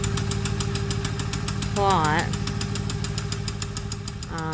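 Old Massey tractor engine idling steadily nearby on a farm plot at fall planting, a chugging rhythmic putter that runs throughout while someone talks over it.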